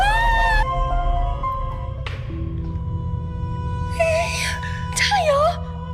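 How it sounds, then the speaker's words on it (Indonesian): Eerie crying from a ghost recording captured on CCTV or dashcam, with drawn-out wailing, moaning sobs in several bursts over a loud low hum, fairly close. "There's a crying sound."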